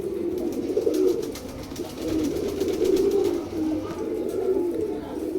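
Pigeons in a Narayanganj pigeon market coo steadily, low throaty calls repeating and overlapping close by, with several birds cooing at once against faint background chatter.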